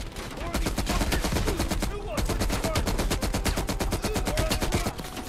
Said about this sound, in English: I'm running with a big-ass M60 in my hands.